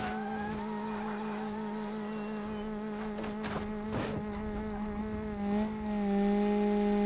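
A car engine runs steadily in the BeamNG Drive video game during a downhill race on a random car, with the engine running but the wheels not turning. The tone is constant and sustained, with brief scraping bursts midway and a shift near the end.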